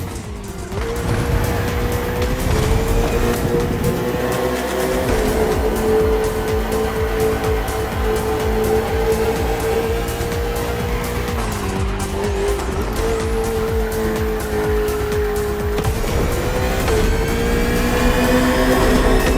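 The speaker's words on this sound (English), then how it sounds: "On track this evening, the KTM RC16 takes on the Ferrari 488 GT3." Race engines from a KTM RC16 motorbike and a Ferrari 488 GT3 on a circuit in The Crew Motorfest game, a continuous loud high-revving whine with gear shifts and tire squeal throughout, no talk.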